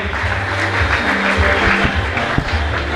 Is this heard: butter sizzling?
no